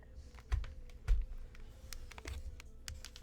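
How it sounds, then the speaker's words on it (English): Keyboard keys clatter in quick irregular bursts, with a few heavier thumps, as a cat walks across a computer keyboard close by; no talking. "stepping on keyboards and the like"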